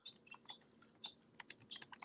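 Rapid typing on a computer keyboard, a quiet irregular patter of sharp key clicks close to the microphone, with no voices present.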